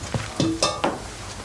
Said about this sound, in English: The water's boiling, ready for the halushki.